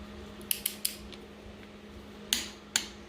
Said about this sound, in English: You'll hear the torque wrench click.